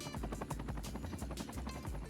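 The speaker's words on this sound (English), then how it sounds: "And then the helicopter lands right on the street" A rescue helicopter in the Cities Skylines 2 city-building game, its rotor beating in a fast, steady rhythmic chop at low volume with no talk over it.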